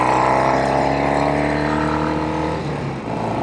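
A Norton 750 Commando Combat motorcycle engine roars loudly and steadily under hard acceleration, its pitch climbing as it pulls through the gears, with a brief dip near the end, heard up close with nobody talking.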